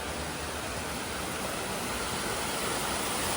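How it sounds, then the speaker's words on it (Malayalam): Water flowing down from high above inside Batu Caves, Kuala Lumpur, heard as a steady, loud broadband rush like a small waterfall, continuous throughout with no voices. "ഒരുപാട് മുകളിൽ നിന്നാണ് ഈ വെള്ളം ഒഴുകി വരുന്നത്"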